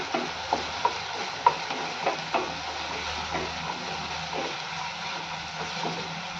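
Capsicum frying in a pan for Mumbai-style pav bhaji, a steady soft sizzle with occasional clinks and scraping stirs of a spatula, close and moderately quiet, no voices.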